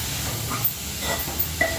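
Chana dal frying in a pan: a soft, steady sizzle and hiss with a few faint clicks and pops scattered across the short stretch.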